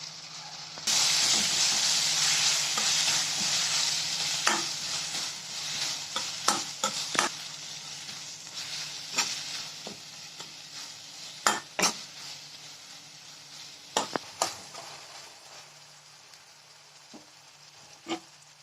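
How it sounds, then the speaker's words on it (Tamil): Tomato and green chili with rock salt sauté in a hot pan, a continuous close sizzle broken by repeated scraping and clinking of a spatula stirring against the metal, with no talk over it. "இதிலே தேவையான அளவு கல்லுப்பு சேர்த்து நல்லா வதக்கிக்கோங்க"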